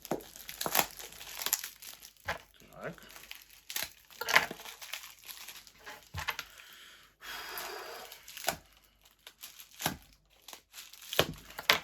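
Repeated sharp ripping and crinkling bursts, close by, as packing tape is pulled and torn off a parcel in irregular strokes with brief pauses between.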